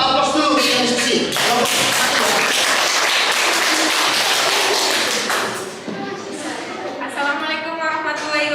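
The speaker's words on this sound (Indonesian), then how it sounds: "Kita beri aplaus dulu yang diskusi." An audience of teachers in an Indonesian teacher-certification classroom claps steadily for a discussion group, a dense, loud wash of applause lasting several seconds that eases briefly before continuing.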